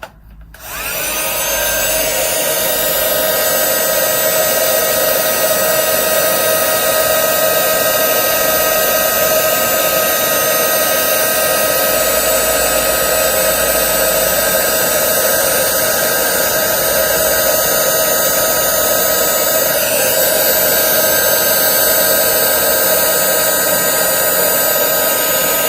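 A heat tool blows hot air over craft work with Cosmic Shimmer Fluffy Stuff, switching on and holding a loud, steady whirring roar for the whole stretch, close and alone.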